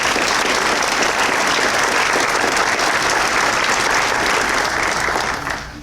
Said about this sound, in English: If you give them all a big round of applause.